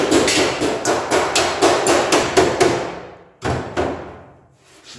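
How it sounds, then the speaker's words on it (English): Rapid, loud hammer blows straightening metal on a junkyard Plymouth Volare, striking in a quick steady series, each hit ringing sharply, then a pause and a few more strikes that fade away. "get, you know, a hammer and get that straightened back out"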